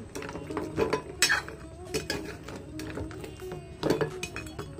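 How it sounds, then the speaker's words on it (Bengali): A spoon stirs jackfruit kalojam sweets soaking in hot syrup in a pot, with repeated metallic clinks and scrapes against the pot's sides at an irregular pace, close and fairly clear. "কালো জামগুলোকে এর মধ্যে ভিজিয়ে নেব। সবগুলো দিয়ে ভালো করে নেড়ে চেড়ে দেব।"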